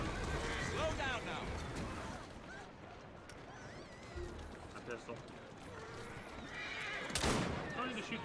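A horse whinnies loudly several times amid hoofbeats and busy background action in the video game Assassin's Creed: Syndicate, with a person talking over it.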